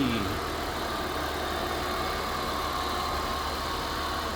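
A 2005 Chrysler Crossfire SRT-6 convertible's Mercedes-Benz engine idles close by, a smooth, even rumble with no revving, running continuously throughout.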